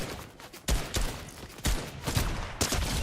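Gunfire in the video game Fortnite: a few sharp, loud shots in bursts over a busy background of game sound.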